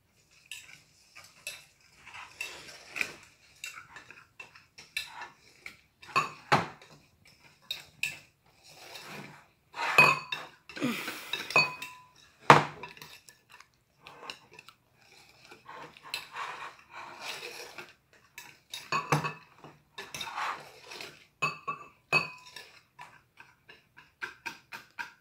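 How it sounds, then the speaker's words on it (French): A utensil whisks pancake batter in a bowl, giving intermittent scraping and clinking strokes in bursts separated by short pauses. The sound is quiet and close, with no talking. "Mélangez bien, sinon ça va faire quelques grumeaux."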